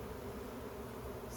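A swarm of honeybees in a hive makes a dense, unbroken buzzing drone, steady and close, with no pauses.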